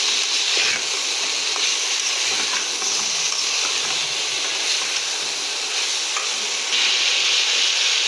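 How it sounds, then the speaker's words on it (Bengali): Chopped yardlong beans stir-fried in a hot pan, giving a loud, continuous close-up sizzle and hiss with occasional stirring scrapes and no talk. "কেটে রাখা বরবটিটা দিয়ে নেব। বরবটিটার সঙ্গে ভালোভাবে কষে নেব।"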